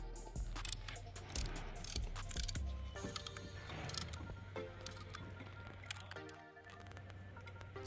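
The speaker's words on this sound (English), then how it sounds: "I'm gonna use the old brake pad to try to compress the caliper" An old brake pad presses the front caliper piston back on a 2014-2019 Chevy/GMC HD truck, making a continuous close mechanical grinding and creaking with clicks and scrapes throughout.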